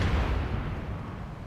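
A Qunari dreadnought blows up in Dragon Age: Inquisition, a deep, rumbling explosion boom that rolls on loudly for a moment before slowly decaying.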